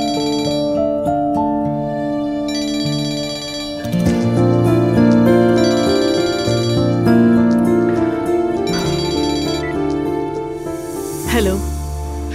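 A phone rings with a melodic electronic ringtone in a Turkish drama, repeating tonal phrases over a music bed, steady and fairly loud with no talk.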